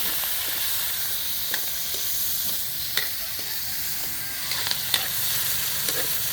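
Bay leaf, green chili and tomato frying in a pan over a wood fire, a steady close sizzle with scattered sharp pops and spatters throughout.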